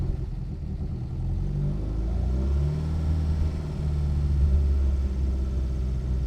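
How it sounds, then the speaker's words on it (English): A 1976 Jensen GT engine starting cold and settling into a steady low rumbling idle, close and continuous, with a slight rise in revs toward the end. "We'll do a little cold start."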